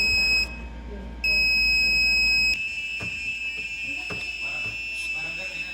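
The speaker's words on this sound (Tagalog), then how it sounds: "we made a buzzer sound that changes based on the position of a potentiometer" A shrill Arduino electronic buzzer, its pitch set by a potentiometer, sounds a steady tone that shifts to different pitches in steps, with faint clicks and handling noise beneath it.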